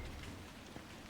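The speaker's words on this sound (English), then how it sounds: "now it's nighttime, it's raining, the visibility's very low." Steady night rain falls in the fantasy game Dragon Age Inquisition, a dense, even hiss of drops on surfaces that stays at a low, constant level with no talk over it.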